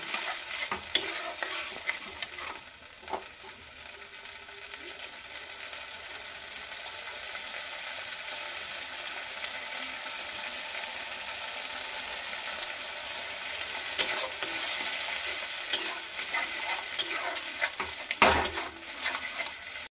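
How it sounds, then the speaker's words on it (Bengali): Bharta sizzles and fries in a pan while a spatula stirs it, a steady crackling hiss broken by occasional scraping and clinking strokes, heard close with no voices. "এবার সমানে কিন্তু নাড়াচাড়া করব"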